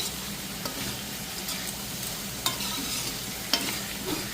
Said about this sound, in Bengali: এখানে আমার অলমোস্ট আলু আর পটলটা ভাজা হয়ে গেছে।